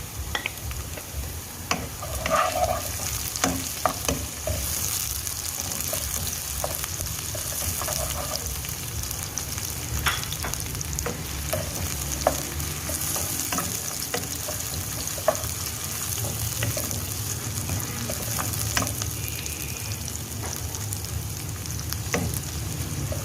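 Chopped garlic, ginger and green chilies sautéing in hot oil for a potato curry, with a dense continuous sizzle and occasional stirring scrapes and taps, close and steady, without speech.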